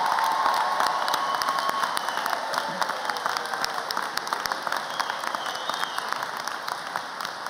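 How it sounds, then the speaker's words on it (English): A high school graduation crowd applauds the class of 2022, loud sustained clapping from a large audience with scattered cheers and shouts mixed in throughout. "let's give the class of 2022 another round of applause"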